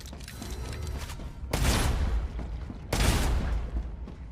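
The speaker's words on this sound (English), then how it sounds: "I think I did the smart thing by bringing the shotgun and the assault rifle." Shotgun and assault rifle fire in the sci-fi video game StarRupture: two loud, sharp bursts about a second and a half apart, standing out over a steady mechanical background din.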